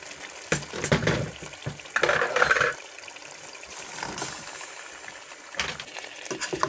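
Meat in spice paste frying in a pan, crackling sizzles with bursts of stirring and scraping, close and fairly quiet, with quieter stretches between.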